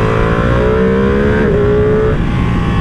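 A 2023 Ducati Panigale V2 Bayliss motorcycle revs hard through quick-shifted gears. The engine note climbs, dips briefly at each shift and pulls again, loud and close, with no voices.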